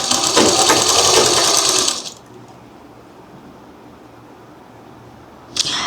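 A sewing machine runs fast and loud at close range for about two seconds, a bright dense whir, then stops to near silence before a short burst starts again at the very end.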